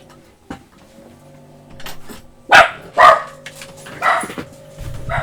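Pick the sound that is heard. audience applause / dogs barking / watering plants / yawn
dogs barking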